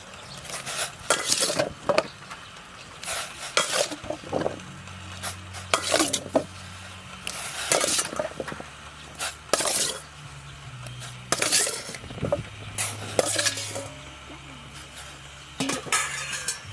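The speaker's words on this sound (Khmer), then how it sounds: "ឥឡូវទឹកពុះហើយយើងដាក់ដំឡូងចូល" Potatoes dropped into a pot of boiling water, a few soft splashes and knocks with clinking cookware and light bubbling, close by with no talk.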